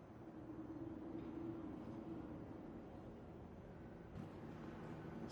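A tram in the video game Star Citizen gives a steady, faint low rumble with a soft hum that holds throughout, broken by a slight knock near the end.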